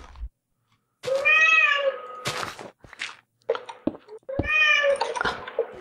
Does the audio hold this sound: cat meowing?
yes